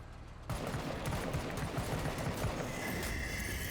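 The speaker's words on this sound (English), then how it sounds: "let's go ahead and fire our regular shots here" Regular gunfire in the turn-based tactical RPG video game Menace starts abruptly and keeps going as a loud, dense rattle of rapid shots, with a thin high tone coming in near the end.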